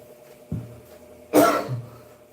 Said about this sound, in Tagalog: Grabe ubo mo.